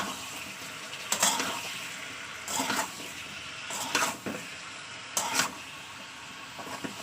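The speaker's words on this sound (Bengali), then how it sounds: "এবার এটাকে ভালো করে আমি কষিয়ে নেব" Fish pieces with turmeric and salt are stir-fried in a pan with a spatula, giving about five scraping strokes at uneven intervals over a steady low sizzle, close and moderately loud.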